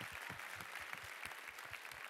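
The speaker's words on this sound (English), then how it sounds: "Let's give them a round of applause one last time." An audience applauds contestants at the close of a pitch competition evening, a steady wash of clapping at moderate distance with no talk over it.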